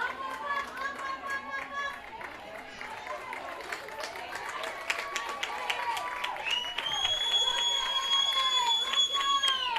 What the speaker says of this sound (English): An excited crowd here